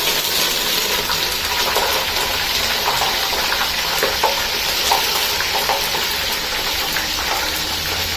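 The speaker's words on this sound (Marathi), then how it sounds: "हे तेल टाकलेले आहे. मी मोहरी, जिरे, हिंग, हा कढीपत्ता टाकते." Mustard seeds, cumin, asafoetida and curry leaves sizzle and crackle in hot oil for a Marathi vegetable tempering, a steady, loud, close hiss with scattered pops throughout.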